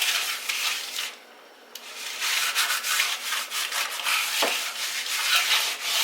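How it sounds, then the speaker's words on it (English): Grease is rubbed in a thin layer around the inside of a cooking pot, a dry, close scrubbing swish in repeated strokes with a short pause partway through. "Thin layer of grease the inside because I don't have time to season it before this"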